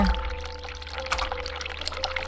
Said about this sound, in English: Hot water running.